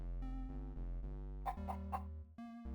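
Cartoonish chicken clucks from a chicken-farming video game called The MachinEGG, a few short bursts over steady game music, close and clear.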